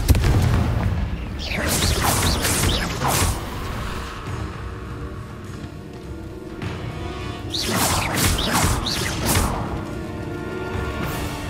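Confringo explosion spells and other combat spells go off in Hogwarts Legacy, booming bursts and crashing impacts arriving in clusters over a dense, continuous battle din.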